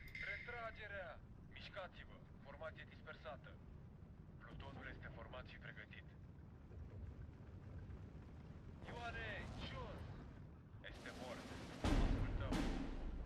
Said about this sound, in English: I think that artillery is probably like the 122 mil artillery.